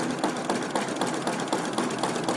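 A simple small engine powering a rail trolley, running close by with a steady rhythmic chuffing beat of about four pulses per second, loud and even with no voices.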